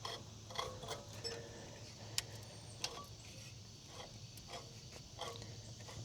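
A 1968 Ford Mustang engine, sitting for 30 years, is turned over by hand at the fan, giving faint, irregular mechanical clicks, ticks and light creaks over a steady low hum, with no talking.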